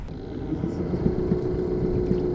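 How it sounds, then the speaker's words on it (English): The motor of a small homemade boat runs on the water in a steady, close mechanical drone with some wind noise. "The motor's working."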